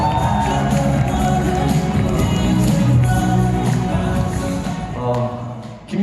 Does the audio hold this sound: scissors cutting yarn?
no